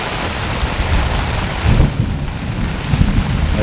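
Heavy rain pours down steadily during a massive thunderstorm, a loud dense hiss with deep rumbling thunder rolling underneath and swelling in a couple of places, close and unbroken.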